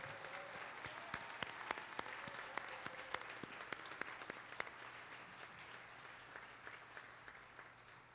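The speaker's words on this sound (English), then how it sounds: "Let's have one more round of applause for the graduating class of 2021." A crowd at a college commencement applauding the graduating class, clapping steadily, sharp individual claps standing out over a continuous wash of applause, gradually thinning toward the end.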